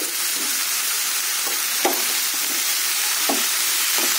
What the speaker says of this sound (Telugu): కొద్దిగా పసుపు, సాల్ట్ వేసి కలయబెట్టి